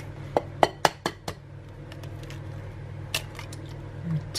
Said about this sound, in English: And now we're going to add in 2 eggs.